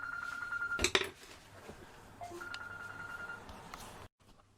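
Telephone ringing in a quiet room during a watercolour painting demonstration, with steady electronic tones, a sharp clatter near the start, then the ring stopping abruptly.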